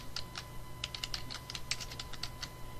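Keys clatter in a quick irregular burst on a computer keyboard, close and fairly quiet over a low steady hum, while text is entered for a certificate form.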